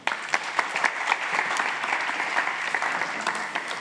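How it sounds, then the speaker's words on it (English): A forum audience at a high-level session in Tokyo claps to see off the speakers, a brisk, even burst of many hands clapping at close range, continuous and unaccompanied by talk. "Let us see them off with a big round of applause."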